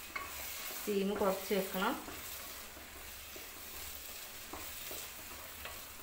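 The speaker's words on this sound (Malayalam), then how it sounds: "അങ്ങനെ അടി പിടിക്കാതെ അങ്ങനെ ഇളക്കി കൊടുക്കാം" Food is stirred in a frying pan over a low, steady sizzle, with soft scraping strokes now and then; a voice speaks briefly near the start over the cooking sounds.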